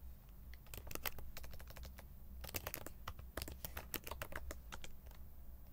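Rapid clatter of typing on a computer keyboard during a coding session, bursts of close, crisp keystrokes with short pauses between, fairly quiet and with no voices.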